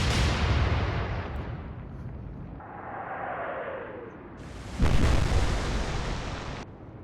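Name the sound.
ship guns firing in the video game Atlantic Fleet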